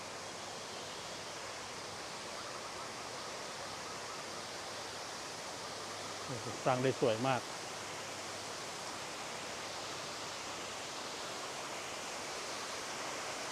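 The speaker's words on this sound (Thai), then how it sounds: "น้ำตกเงินไหลมาเหรอ" An artificial waterfall at Wat Tako temple pours steadily, a constant soft rushing of water, with a voice speaking briefly over it.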